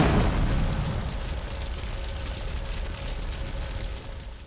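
A loud explosion in GTA Vice City Stories bursts at the start, then a long rumbling roar slowly fades, with a faint steady tone running underneath.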